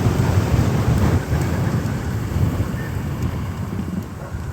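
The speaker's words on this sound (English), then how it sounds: "it's too windy" Strong wind buffets the microphone while cycling, a loud, continuous low rumble and whoosh that surges and eases throughout, masking the surroundings.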